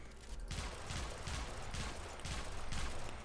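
Sybaris Prime rifle firing in Warframe, a steady string of quick, paired semi-automatic shots that repeat evenly over a dense, continuous game background, moderately loud.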